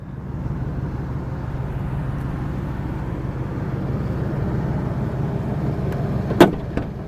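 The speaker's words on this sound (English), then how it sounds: "Engine's running quiet." A 1998 Ford F150 with a 4.6L V8 and automatic transmission idles steadily, a smooth low rumble heard close by, ending with a sharp click or knock.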